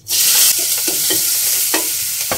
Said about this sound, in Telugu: మినపప్పు, జీలకర్ర, పావు టీ స్పూను పసుపు వేయించుకుందామండి